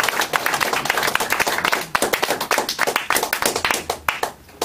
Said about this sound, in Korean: 이럴 때도 박수를 해주셔서